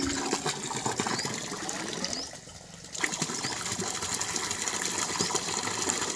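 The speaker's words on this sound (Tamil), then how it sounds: "வெயில் இல்லாதனால தண்ணி மீடியமாக வந்துக்கிட்டு இருக்கு" Water gushes steadily from a 1.25-inch pipe fed by a 1700W BLDC borewell motor in a village, a loud continuous rushing flow with a brief dip midway, no talking.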